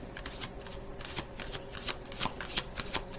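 An oracle card deck being shuffled, a rapid run of crisp riffling bursts close by, repeating irregularly for a few seconds with no talk.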